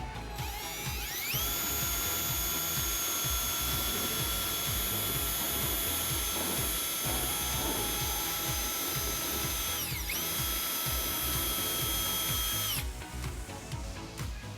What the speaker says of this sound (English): we can just take a file or a file bit and we can just shave down the sides to make it look better